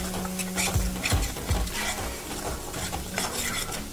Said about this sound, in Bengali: এবার এই সমস্তটা দিয়ে আমি এটাকে ভালো করে কষিয়ে নেব